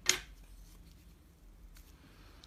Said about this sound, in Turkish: İpi artık burada kesiyorum.